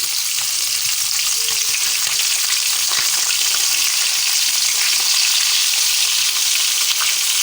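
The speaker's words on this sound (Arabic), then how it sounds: "عجبتني ندير هكا نقطعها ونقليها." Pieces of fish fry in hot oil, a dense steady sizzle and crackle close by, constant and loud with no talking over it.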